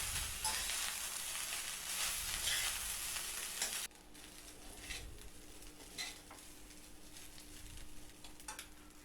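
Schezwan fried rice tossed and stir-fried in a hot pan, a steady loud sizzle with scraping stirs that drops to a quieter crackle partway through, no voices.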